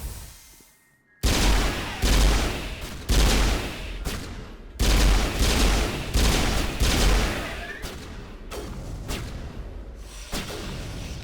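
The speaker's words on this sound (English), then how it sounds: "What are they shooting at?" Gunfire in Mass Effect Legendary Edition crackles in loud, dense bursts after a brief quiet start, volleys stopping and restarting in an irregular rhythm with heavy low thumps mixed in, including high explosive rounds.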